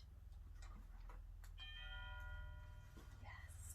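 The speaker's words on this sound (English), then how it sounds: "Ring the doorbell" A doorbell chime rings once indoors during dog training, its bright ringing tones sounding quietly and fading over about two seconds amid faint tapping and small room noises.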